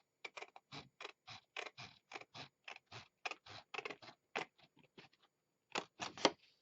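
Scissors snipping through paper while making a jewelry gift box, a quick series of close, crisp cuts in an irregular rhythm with brief pauses, no talking.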